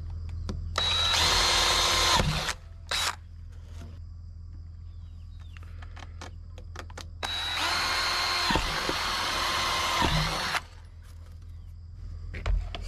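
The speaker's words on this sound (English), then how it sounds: "It says drill a 3/8 hole into your desired water source." A power drill whines in two long bursts, with a short burst between them, drilling a 3/8-inch hole for a rain catchment chicken watering system. Clicks and handling noises fill the gaps over a low steady hum.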